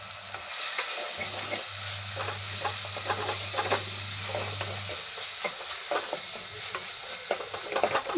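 Chilli powder is stirred into frying masala for a Kerala fish curry, a steady sizzle under repeated scraping strokes of a spoon in the pan, close and continuous with no talk.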